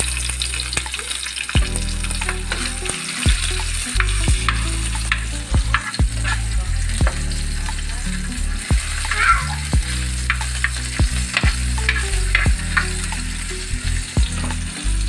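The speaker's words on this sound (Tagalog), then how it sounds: "Ilagay natin ang sibuyas." Onions frying in a pan for a provincial malibanos dish, with a loud, continuous sizzle and frequent scraping, clattering stirs of a utensil against the pan throughout.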